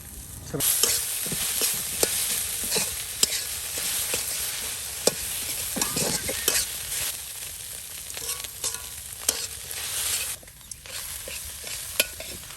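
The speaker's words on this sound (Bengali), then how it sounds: "একদম কুচি কুচি করে পেঁয়াজ কেটে দেওয়া হলো।" Finely chopped onions fry in a pan and are stirred, giving a steady sizzle punctuated by regular sharp spoon scrapes and knocks against the pan; close and moderately loud, with no speech.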